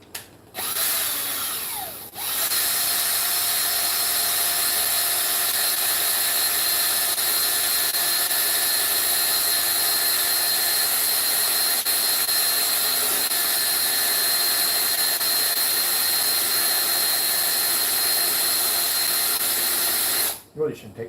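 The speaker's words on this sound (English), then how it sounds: "So we'll put in 2 bolts in here for the head so we can screw his head on and off." A power tool drives bolts to attach the head of a steampunk robot built from a projector. It gives a loud, close, sustained whine that runs almost unbroken for about eighteen seconds, with a brief pause after the start and a sudden stop at the end.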